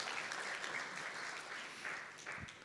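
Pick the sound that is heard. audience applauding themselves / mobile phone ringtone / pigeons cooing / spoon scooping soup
audience applauding themselves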